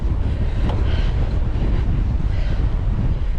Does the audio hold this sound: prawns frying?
no